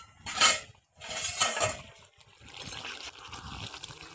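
A metal lid lifted off a cooking pot of vegetable curry with koi fish and papaya, two short clattering clanks close by, followed by a soft, faint trickling sound.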